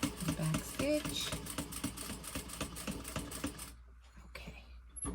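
A sewing machine back stitches binding on a crossbody bag, its rapid, close, rhythmic needle chatter running steadily before stopping abruptly near the end, with a voice faintly underneath.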